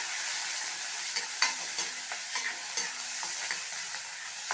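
Cut onion and ginger garlic paste sizzle in a pan while being stirred, a steady hiss of frying broken by soft scraping strokes and light clinks, close with no talk.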